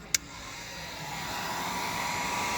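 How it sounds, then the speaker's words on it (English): After a sharp click, a heat gun blows with a steady airy whir that slowly grows, close by and alone, used to soften nylon for a Cessna seat belt bushing. "I got the heat gun heated up."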